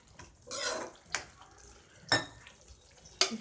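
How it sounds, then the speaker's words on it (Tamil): Water is poured in small bursts into a cooking pan of brinjal dalcha, giving several short splashes and clinks separated by quiet gaps, close and fairly soft. "கொஞ்சமாக தண்ணி ஊற்றிக்கிறேன்"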